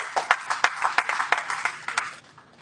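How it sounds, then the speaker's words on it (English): Audience applause at a student week and graduation event: a moderate round of individual hand claps, fairly close and distinct, rippling unevenly for a few seconds. "A round of applause for this"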